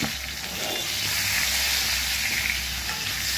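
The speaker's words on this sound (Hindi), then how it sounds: "एबे मु कढ़ाई रे तेल दउछि आलू भाजिबा पे।" Potato pieces fry in oil in a kadai, giving a steady, close, even sizzle with soft bubbling hiss, continuous and without talk.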